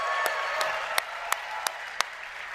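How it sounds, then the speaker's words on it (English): An audience at an event gives a round of applause to the event staff, a steady wash of claps with a few sharp, evenly spaced louder claps standing out nearby. "So let's give everyone a round of applause that's been working here"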